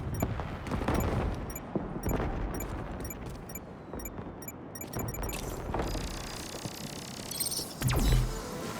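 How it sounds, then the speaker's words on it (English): Fireworks in the Marvel's Spider-Man 2 video game pop and crackle in rapid, irregular bursts over a steady low rumble, with a louder close blast near the end and no talking. "Fireworks?"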